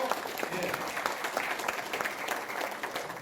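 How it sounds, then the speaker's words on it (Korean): A dense, steady round of clapping fills a debate forum on abolishing lawmakers' privileges at the National Assembly, crisp and fairly close, holding an even level throughout without voices on top. "큰 박수로"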